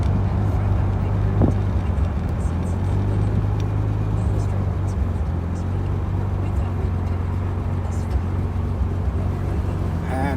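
A steady low engine drone with a strong rumbling hum holds throughout, loud and close, from a Jaguar E-Type cruising along with shifts at about 3,000 rpm.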